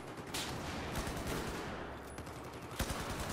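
Rapid automatic gunfire from hip-firing in the Battlefield 4 video game, dense and continuous bursts of shots filling the whole stretch with a sharper crack near the end, loud and busy.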